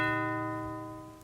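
A single sustained electronic doorbell chime tone played by an Alexa smart speaker, clear and steady, slowly fading out over about a second.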